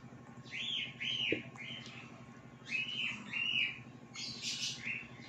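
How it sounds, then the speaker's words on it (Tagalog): Small pet birds chirp in repeated short bursts of bright, high tweets, fairly close, with a steady low hum beneath and no talking. "Ang ingay ng mga ibon ko."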